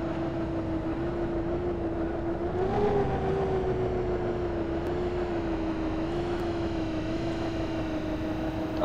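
The Greycat ground vehicle from Star Citizen drives along with a loud, steady engine drone, its pitch rising slightly for a moment before holding constant throughout.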